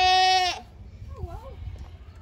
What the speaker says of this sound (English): More goats.